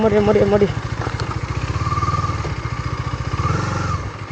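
Off-road motorcycle engine chugs nearby on a hill route, a loud rapid rhythmic putter at idle and low revs, with a voice speaking briefly at the start.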